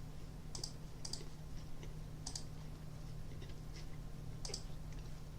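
Mouse clicks on cards in an online bridge game, heard as sparse, crisp, close clicks at irregular intervals over a steady low hum, with no voices.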